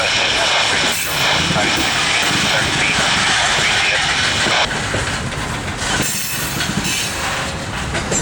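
A CSX freight train, Q696, rolls slowly onto a crossover off a siding near Mount Holly with a loud, continuous rumble and roar of railcars close by, and a voice talks over part of it.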